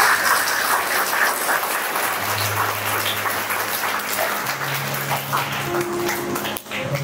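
An audience claps at a school Independence Day celebration at Mount Carmel School: dense, continuous applause with a low hum underneath, holding steady for about seven seconds.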